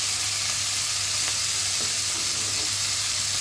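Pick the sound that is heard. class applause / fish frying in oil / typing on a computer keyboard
fish frying in oil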